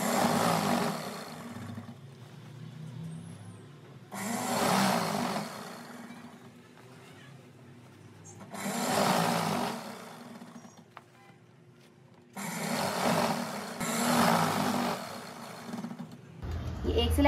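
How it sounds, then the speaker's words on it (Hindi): A sewing machine stitching elastic onto flapper-style trousers, running in four steady whirring bursts of stitching, each a couple of seconds long, separated by quiet pauses. "इस तरीके से खींचना है दोनों हाथ से और सिलाई लगाना है"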